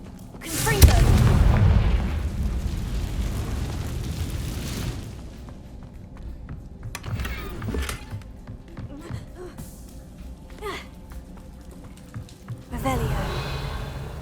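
A blasting spell explosion in Hogwarts Legacy, a loud booming burst up close that rumbles for a few seconds and decays, followed by quieter scattered magical effects and a voice.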